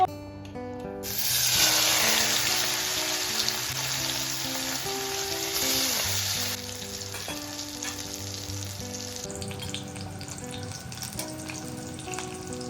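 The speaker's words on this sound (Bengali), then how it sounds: "ওই পনির ভাজা তেলের মধ্যে এই যে মিক্স ভেজিটেবল এইটা দিয়ে নিয়েছি।" Mixed vegetables sizzle and fry in oil left over from frying paneer, a steady loud hiss that eases slightly partway through, with faint background music and no talk.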